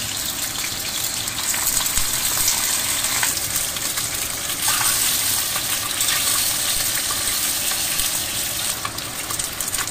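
Sheep blood hits hot soybean oil in a wok with scallion, ginger, garlic, dried chilies and Sichuan peppercorns, giving a steady loud sizzle and hiss that runs unbroken throughout.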